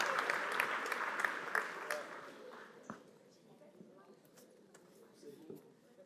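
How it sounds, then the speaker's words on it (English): An audience at a school superintendent's presentation applauds, dense clapping that is loud at first and then thins into scattered claps, with voices underneath. "give her a big round of applause."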